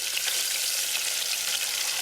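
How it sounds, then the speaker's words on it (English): Falafel balls deep-frying in oil until golden brown, a dense continuous hiss of bubbling oil with fine crackling texture, steady and close without pauses or talk. "We're going to fry that for a few minutes till it's golden brown."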